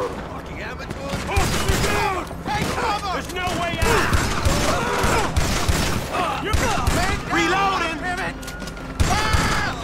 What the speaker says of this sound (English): Is the police shooting at me or what?